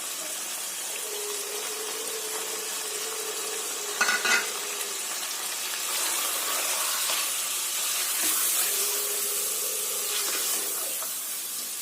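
Spices fry in a hot pan with onions, garlic and ginger paste for a chicken and capsicum curry, a continuous close sizzle with a brief scraping stir and clatter partway through.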